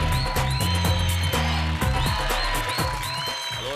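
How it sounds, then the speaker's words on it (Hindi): Studio audience on a Zee TV reality show claps to welcome a guest from Guwahati, Assam, a steady loud applause running under a bright musical sting with drum hits throughout. "तो चलिए जोरदार तालियों से स्वागत कीजिए रातुल चंद्र राभा फ्रॉम"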